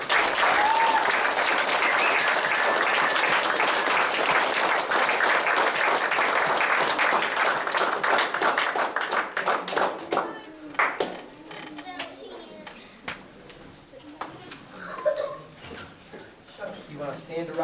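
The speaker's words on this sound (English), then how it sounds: "So let's give them a round of applause." A round of applause for Cub Scouts at an Arrow of Light crossover ceremony in Lancaster, Kentucky: loud, sustained clapping for about nine seconds that thins into scattered claps, chatter and shuffling.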